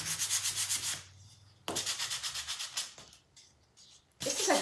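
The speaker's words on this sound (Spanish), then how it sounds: "La lijé un poco. La voy a terminar de lijar." Rhythmic back-and-forth rasping of hand sanding on wood, in two bursts of quick strokes separated by pauses with light scraping, then a final burst.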